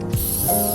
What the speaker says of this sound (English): Spray from one side all the way to the end of other side.